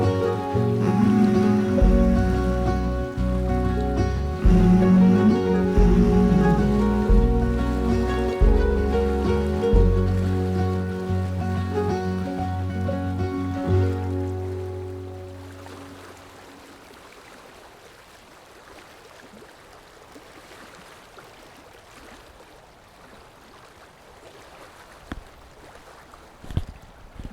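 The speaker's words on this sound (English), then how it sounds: "This is the sound of the river flowing at the base of the glacier." A river rushes at the base of a glacier as a steady, soft broadband wash, emerging alone after music fades out in the first half.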